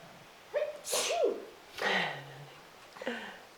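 A single sneeze with a sharp intake and burst, followed by softer breathy sounds, moderately close in a quiet room.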